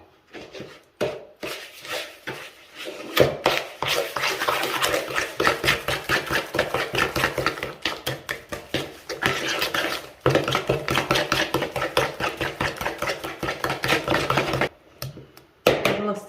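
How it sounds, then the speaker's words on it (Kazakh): Sugar and eggs being mixed into a batter, a rapid steady rhythm of utensil strokes knocking against a bowl, close and continuous with a couple of brief pauses. "Шекер, жұмыртқа барлығын қосып, біркелкі масса болғанша жақсылап араластырамын."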